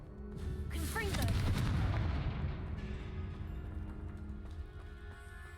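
Spell blasts erupt in a fantasy game, with a loud booming explosion rolling out early and decaying into sustained rumble and crackle, backed by game music and effects.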